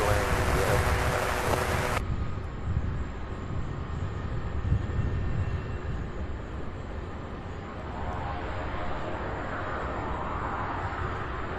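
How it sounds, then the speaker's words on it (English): A propeller airplane flies overhead near an airport: a steady broad engine drone, moderately loud, with a constant high whine and a slowly shifting tone as it passes. "Heard a prop plane somewhere."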